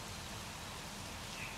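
Artificial rain effect on a studio backlot set at Universal Studios Hollywood, a dense, even hiss of falling water pattering steadily across surfaces, continuous and fairly soft with no voices.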